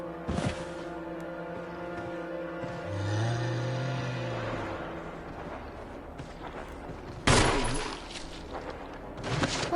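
Resident Evil Anniversary gameplay with a single gunshot aimed at a zombie: one sharp blast, a low rumble partway through, then another loud burst near the end.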